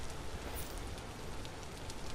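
Steady rain falling in the video game Vintage Story, a dense, even hiss of drops that runs unbroken from start to finish with no voices over it.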